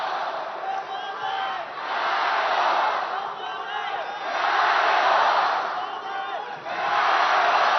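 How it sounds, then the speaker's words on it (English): A basketball arena crowd at a women's Olympic qualifying game between China and Puerto Rico roars in repeated swelling waves of cheering and shouting, heard at a distance. "It's so great to hear this crowd."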